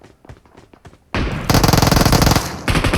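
Automatic gunfire in the PUBG Mobile battle royale game, first a few scattered shots and then a loud, dense burst of rapid fire that continues nearly without pause, with a brief dip before it resumes.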